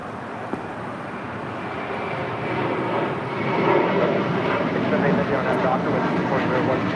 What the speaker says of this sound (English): That is Menta Fresca departing to Newark and JetBlue Airways flight 1374. It's an A321.